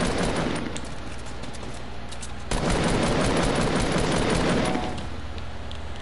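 Video game gunfire as a player shoots a target down, a dense sustained burst of rapid shots lasting several seconds and swelling louder midway, with no talk over it.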